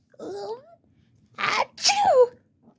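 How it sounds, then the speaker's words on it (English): Two sneezes, the second louder and drawn out, are preceded by a brief vocal sound and heard close up in a quiet room. "Achoo! Dang, bless you"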